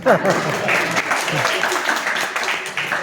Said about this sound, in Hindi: आप लोग इतनी देर से ताली बजा रहे हैं